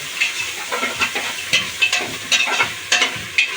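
Coconut powder fried and stirred in a pan for coconut milk rice: close, rhythmic scraping strokes over a steady bright sizzle, with no voices.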